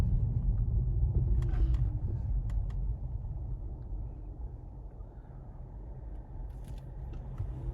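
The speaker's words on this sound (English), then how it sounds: "So we've got a vehicle coming towards us" Oncoming car passing on a residential road in Pinxton, heard as a low rumble that is loudest at the start and then eases off, under steady interior road noise.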